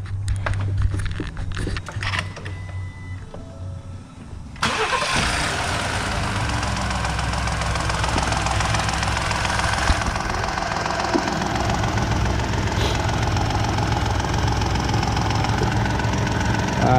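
2018 Ford F-150 engine cranking and catching after a timing chain replacement, then settling into a loud, steady idle with a clattering, ticking mechanical noise, heard close.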